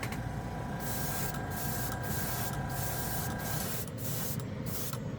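A steady hiss of spray lacquer, metal paint, fires in continuous bursts, with brief breaks between passes, close by and fairly quiet.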